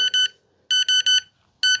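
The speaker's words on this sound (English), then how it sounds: "So the alarm's going off because I have it turned on here." An alarm on a piece of powered equipment from an equipment expo beeps loudly in short electronic bursts, grouped in twos and threes with brief gaps, alone without talk.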